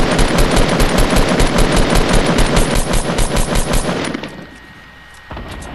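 Loud rapid machine-gun fire bursts during a Fortnite-style battle royale match. Rounds crack off in a fast, even rhythm for about four seconds and then cut off sharply, and a brief softer noise follows.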